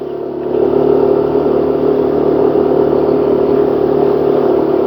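A motor vehicle engine held at gentle, light throttle on a rural road drive, a steady mid-pitched hum that rises slightly early on and then holds even and continuous throughout, with no voices.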